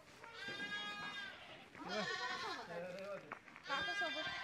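Goats bleat in several separate, wavering calls, close and fairly loud, at a relative's open rural yard, while people talk nearby.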